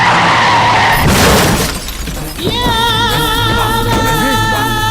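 A car crash in a Bollywood movie scene: loud tire skidding, then a harsh impact with shattering glass, followed by ringing, wobbling metallic tones as debris settles.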